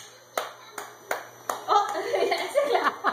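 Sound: hands clapping along to a children's song

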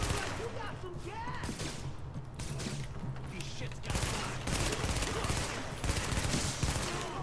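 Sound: gunfire in the video game The Division

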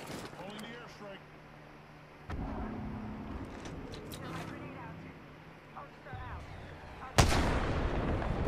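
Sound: airstrike explosions in a video game

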